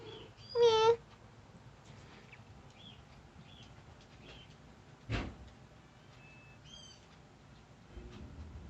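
A pet cat gives one short, fairly loud meow near the start, then the room stays mostly quiet apart from a faint bump and a few small chirps.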